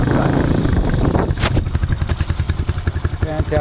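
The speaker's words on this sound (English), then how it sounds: "what I got here is a 150 Viper, Chinese-made bike from Ricky Power Sports" Idling RPS Viper 150, a Chinese-made 150cc motorcycle, running loud and close with a rapid rhythmic single-cylinder putter and a brief rev burst partway through.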